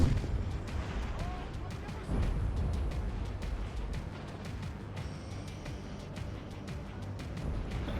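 Napoleonic 4-pounder cannons fire in a battle scene in the game Napoleon Total War, with repeated booming reports over a rumbling battlefield and a voice talking over it.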